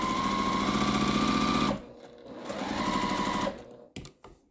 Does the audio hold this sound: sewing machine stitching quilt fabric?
yes